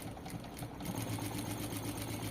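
A sewing machine stitches a tailored double-welt pocket, running in a quick, even mechanical whir and rattle that continues throughout, close and fairly quiet.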